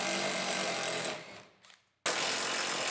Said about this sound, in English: Now we can unbolt our hinges.